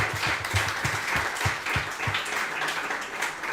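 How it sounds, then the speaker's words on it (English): A small group claps in a quick, steady rhythm, the sharp hand strikes close and fairly soft, with no talking over them. "So I'm going to clap that up for you guys."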